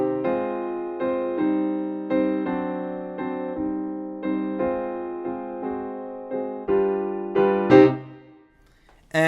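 A piano plays the ending of a ragtime piece, with bouncy, evenly pulsed chords in a steady rhythm that builds to a final accented chord and then stops.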